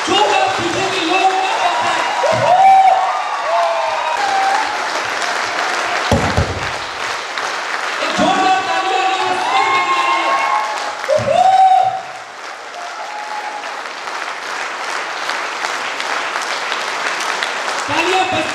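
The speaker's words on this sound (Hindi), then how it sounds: "तालियां बजती रहनी चाहिए" A crowd keeps clapping at an event, with long stretches of dense applause and a few sharp louder bursts. Voices and the odd shout rise above the clapping.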